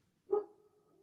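A single short dog bark or yelp indoors, fairly close, then a faint trailing tone, with no talk around it.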